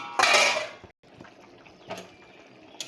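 A metal lid clatters as it is lifted off a pot of simmering fish curry with figs: one bright, close scrape and clink, then a soft pot rattle and a faint knock, with no talk.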